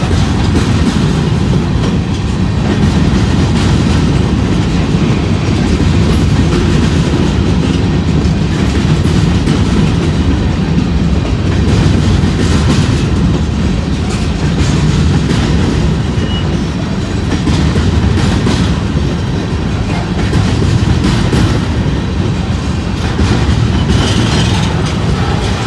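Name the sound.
long freight train with gondola cars passing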